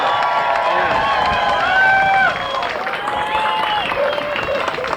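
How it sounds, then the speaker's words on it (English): Applause and cheering from an audience at a public rally supporting bill HB 2556, steady crowd noise with raised voices and whoops mixed in, fairly loud and sustained throughout. "Let's give Benji another big round of applause."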